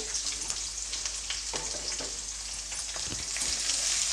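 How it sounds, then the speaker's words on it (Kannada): Two large onions, sliced lengthwise, frying in a pan for capsicum fried rice made with little oil: a steady, loud sizzle with occasional stirring scrapes, no talking. "ಈರುಳ್ಳಿನ ಹಾಕ್ಕೊಂಡ್ಮೇಲೆ ಒಂದು ಎರಡು ನಿಮಿಷ ಫ್ರೈ ಮಾಡ್ಕೊಳ್ಳಿ"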